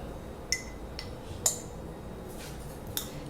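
A metal spoon clinks lightly against a jar or dish while scooping ground vanilla bean, several small quiet taps spaced about half a second to a second apart in a hushed kitchen.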